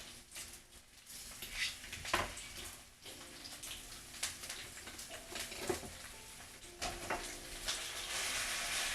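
Potatoes and sliced onions sizzle in a hot pan while being stirred, producing intermittent scrapes and clatters over a soft steady fry, close and fairly quiet, without speech.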